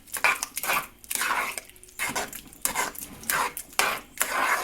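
A utensil scrapes and clinks against a pot of simmering zucchini adjika in repeated rhythmic strokes, close and fairly loud, with no voices.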